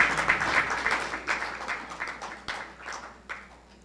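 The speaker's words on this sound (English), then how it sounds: "And another big round of applause to the designers." An audience at a Durban July media launch applauds the designers, a moderate, scattered patter of clapping that thins out over a few seconds, with a few sharper claps standing out.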